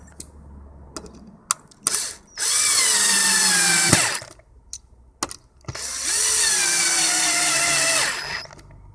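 A cordless drill drives Phillips PH2 screws into a wooden solar light base, two long whirring runs with the motor pitch dropping as each screw seats, separated by short clicks and handling knocks.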